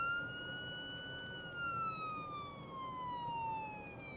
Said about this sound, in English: So here we go, cop sirens.